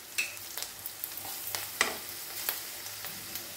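Green chilli, ginger and garlic sizzle in a pan with a soft, steady frying hiss, broken by sharp scraping clicks of a spoon stirring at irregular intervals, close and fairly quiet.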